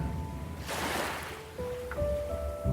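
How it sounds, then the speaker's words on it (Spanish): Sea waves in a calm seaside soundscape, one soft wash of surf swelling and receding over a low background rumble, moderately close. "solo el sonido del mar guiándote suavemente hacia un descanso profundo"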